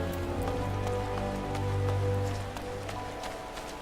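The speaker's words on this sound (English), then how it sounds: "if you look closely as I stand here in the rain, my guy starts getting wet" Steady rain falls in the Final Fantasy XIV video game, a soft, continuous patter with faint droplet ticks, heard alone at low volume.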